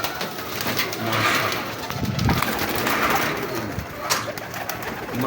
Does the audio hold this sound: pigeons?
yes